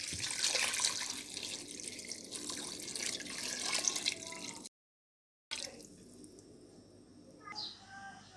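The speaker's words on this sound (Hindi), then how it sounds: "इसमें अंदाजे का पानी डाल दें।" Water poured into a pressure cooker holding beef with green chillies, garlic, chopped onions, salt and spice mix for shami kabab, a steady splashing, trickling stream up close, with a brief gap and lighter dribbles afterward.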